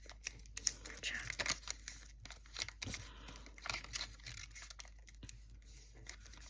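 Paper is folded by hand to make a paper Beyblade Hestia, with quiet crinkles, creases and rustles in an irregular rhythm, faint and close, while a person talks.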